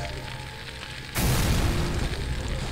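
Explosion in the video game Operation Flashpoint: a sudden loud boom that bursts in after a low rumbling background and rolls on as a sustained noisy blast.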